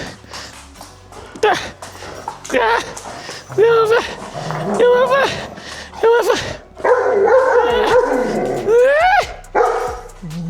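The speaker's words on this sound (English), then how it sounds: "Bark all you want." A dog barks repeatedly in loud, close bursts with yips and whimpering whines between them, while someone talks over and around the barking.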